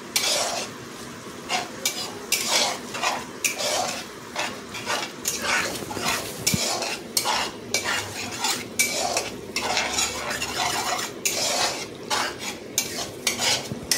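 Masala stir-fried in a pan for katla fish curry: a spoon scrapes against the pan in repeated rhythmic strokes over a continuous low sizzle, close and fairly loud.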